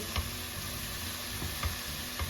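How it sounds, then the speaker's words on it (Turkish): Mallow leaves sizzle steadily as they are sautéed in a pan, with a constant close frying hiss and a few soft knocks of a spoon stirring them. "Ebegümecimiz iyice kavruldu. Ara ara karıştırmaya devam ettim."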